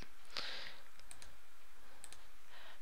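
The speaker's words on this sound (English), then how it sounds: "just click in and then type the key you want" Quiet computer clicks and a key press sound faintly and close by as settings are entered, with a few scattered sharp taps over a low background hiss.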